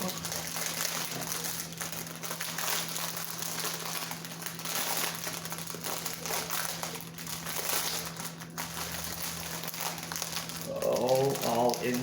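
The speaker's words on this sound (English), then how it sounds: "Sorry for the crinkling, just looking for the opening." Plastic packaging crinkles continuously as hands search for the opening during an unboxing, a steady close crackle with faint rustling throughout.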